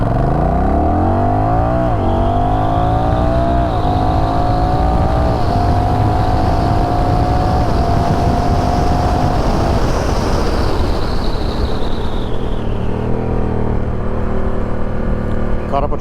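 A Honda Rebel 1100 motorcycle accelerates hard from a standstill, its engine revving up loudly through several rising gear pulls with brief drops at each shift, close and dominant with wind rush.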